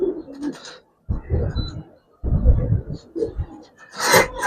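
Giribaz pigeons cooing up close, with several loud, throaty low coos in separate bursts and brief pauses between them.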